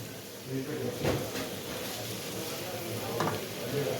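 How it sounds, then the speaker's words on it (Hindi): Finely chopped capsicum dropped into a hot pan for a crispy potato snack, a steady close sizzle with a couple of sharp bursts as pieces land and are stirred. "और ये डाल दूँगी मैं शिमला मिर्च।"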